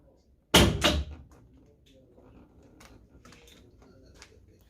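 A solenoid-operated door gives two quick, loud clunks close by as it opens and shuts, followed by a quiet, faintly rustling room.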